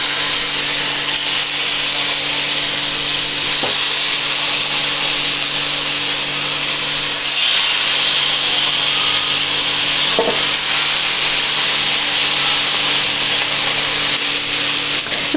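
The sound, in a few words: chicken with peri peri paste sizzling on a hot grilling pan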